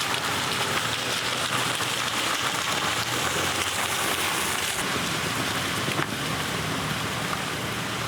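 Steady, dense rain pattering on a surface, likely a hot tent at night while camping, loud and continuous throughout with no breaks.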